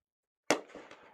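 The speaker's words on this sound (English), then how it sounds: "As you can hear the fireworks and see those going off in the distance." A single firework burst at a July 4 minor-league ballpark, a sharp crack followed by a rolling, fading rumble with a couple of softer pops, heard alone.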